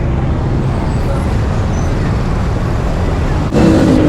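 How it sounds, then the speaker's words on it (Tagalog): Heavy congested traffic drones near Quiapo, Manila, a constant wash of cars, buses and trucks nearby, with a brief louder engine and hiss of a bus air brake toward the end. "Traffic sobra."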